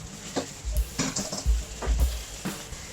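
Rice with pork balls is stir-fried in a pan over medium heat: rhythmic spatula scrapes and tosses roughly every half second over a soft background sizzle.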